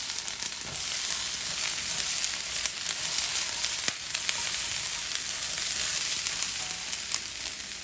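Peppers stir-frying in a hot pan for Chinese takeout-style pepper steak, a steady loud sizzle lasting throughout with occasional clicks of stirring, no voices.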